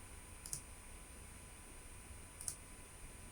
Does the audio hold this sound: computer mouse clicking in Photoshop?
yes